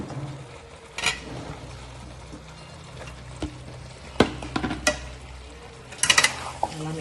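Ground eggplant and potato stirred into kuska kurma in a pot, with scattered scraping and clinks of a spoon against the pan over a soft background sizzle.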